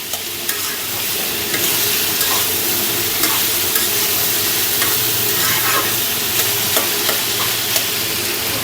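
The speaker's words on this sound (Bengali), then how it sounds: "ভাজি খুবই সুন্দর সেন্ট আসছে করং আর পেঁয়াজ দিয়ে তেলে দিলাম" Vegetables and onion fry in hot oil, a loud, steady sizzle and crackle that runs the whole time, with faint scraping now and then.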